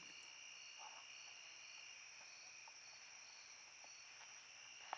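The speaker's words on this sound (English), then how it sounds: "You can hear the crickets and katydids begin singing their summer evening swan song." Steady high-pitched insect trilling from crickets and katydids fills the evening air, a continuous chorus with faint scattered chirps and no voices.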